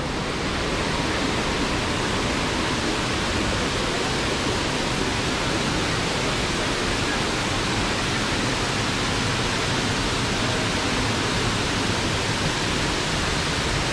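Daranak Falls, a waterfall, roars steadily and loudly throughout, a dense unbroken rush of falling water with no voices over it.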